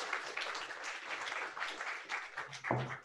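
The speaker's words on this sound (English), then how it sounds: "Can we have a round of applause for Narelle Anderson?" Audience applause for a panellist at a circular economy panel discussion, a steady wash of clapping for about three seconds, moderately quiet and slightly distant, with a brief low murmur near the end.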